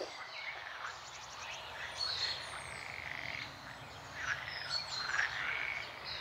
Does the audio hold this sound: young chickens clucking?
no